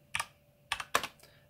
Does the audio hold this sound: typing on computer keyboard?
yes